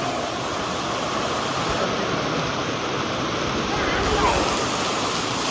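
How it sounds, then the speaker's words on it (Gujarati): Steady roar of rushing, falling water fills the whole stretch, loud and continuous, swelling slightly near the end. "એટલું પાણી પડે"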